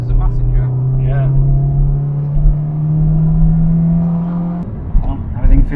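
Toyota MR2 Mk2 being driven on the road, heard from inside as a steady engine drone that climbs gradually in pitch, then drops and shifts near the end, with people talking over it.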